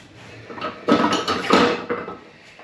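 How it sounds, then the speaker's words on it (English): A spoon scrapes and clinks against a metal bowl and patty tray while scooping frittata mixture, making a few close, bright metallic knocks in an irregular rhythm. "And now I'm just going to spoon this mixture"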